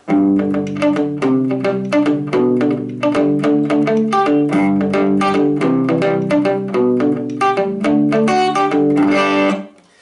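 Bright twangy electric guitar picking in a steady, busy old-fashioned country rhythm, dry and close with no reverb, playing continuously with no echo or trailing ring.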